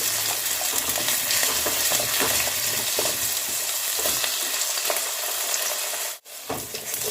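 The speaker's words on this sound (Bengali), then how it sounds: "আলুগুলো ভেজে নিচ্ছি" Potato pieces fry in hot oil in a pan with a loud, continuous sizzle and crackle that runs steadily. The sizzle briefly dips near the end.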